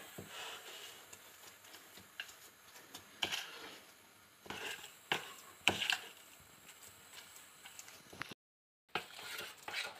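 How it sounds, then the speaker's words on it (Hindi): Sugar, butter and vanilla essence are stirred into a cookie batter for Nutella cookies, giving soft, irregular scraping and tapping strokes close by, with a brief silent gap near the end. "और अब इन चीज़ों को फिर से अच्छे से मिक्स करेंगे"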